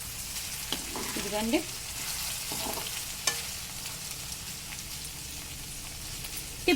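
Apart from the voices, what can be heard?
okra being stirred while frying in a pan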